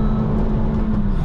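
A Renaultsport Megane Cup 250, tuned to stage one, drones loudly from inside the cabin with a steady engine hum during a rev-matched downshift to third, brief and continuous with no talking.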